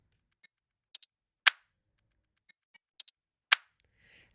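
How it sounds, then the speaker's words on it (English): Music with a very high-pitched ting boosted hard by EQ, heard as sparse sharp metallic clicks and ticks scattered at irregular intervals over near-silence, bright and piercing, with no talk. "every time I hear that very high-pitched sound,"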